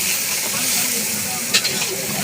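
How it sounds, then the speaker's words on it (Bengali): Onions frying in a pan for a picnic chicken kosha, a steady loud hissing sizzle with a brief clatter near the end. "পেঁয়াজটিকে ভালো করে ভাজা হবে যাতে জলগুলো ছেড়ে যায়।"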